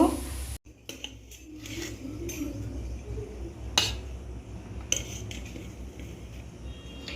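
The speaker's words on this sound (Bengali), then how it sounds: "এই যে বাবার জন্য ভাত বাড়া হচ্ছে" Rice being served onto a plate for a father in a Bengali home kitchen, heard as scattered light clinks and scrapes of a spoon against dishes over a steady low room hum, with no talk.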